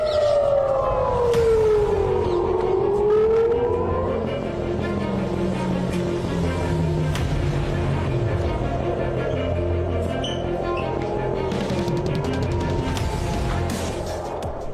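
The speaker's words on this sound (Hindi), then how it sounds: "तेल अवीव समेत 5 शहरों में अचानक हमले के अलर्ट पर सायरन बजने लगे।" Air raid alert sirens wail across Tel Aviv, their loud tones rising and falling without a break, layered over a steady rumble of city noise.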